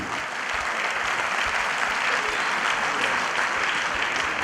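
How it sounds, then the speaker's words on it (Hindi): Audience applause at an award ceremony honoring a singer with an achievement award, loud and continuous clapping from a crowd sustained throughout. "एक बार जोरदार तालियां बजाइए मनहर जी के लिए"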